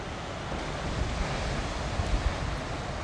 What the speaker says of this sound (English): You should be able to hear the sound of the sea.